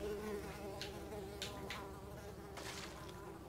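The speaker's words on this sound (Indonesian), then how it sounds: "Ini ada banyak kayak, apa sih? Tawon atau lalat itu, gue nggak tahu" Wasps or flies buzz in the puzzle-platformer video game Unravel, a steady low insect drone with a few brief louder swells as they pass nearby, quiet and without talking.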